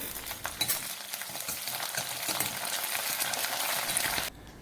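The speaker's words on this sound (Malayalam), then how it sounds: "അതിലേക്ക് 1 കഷ്ണം ഇഞ്ചി ചെറുതായി അരിഞ്ഞതും 10 പച്ചമുളക് 2ആയി പിളർന്നതും കുറച്ച് വെളുത്തുള്ളി അരിഞ്ഞതും കറിവേപ്പിലയിട്ട് വഴറ്റിയെടുക്കാം" Ginger, split green chilies, garlic and curry leaves sauté in hot oil for a bitter gourd pickle, a steady crackling sizzle with occasional stirring scrapes, close and continuous until it cuts off near the end.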